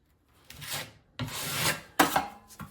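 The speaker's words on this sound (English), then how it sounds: "pushing that compound in with my knife." A putty knife scrapes and pushes setting-type joint compound into a wide gap along the edge of a tub, four short rasping strokes close up.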